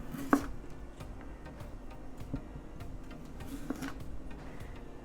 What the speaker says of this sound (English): I'm going to pat them dry and slice off the stems and the ends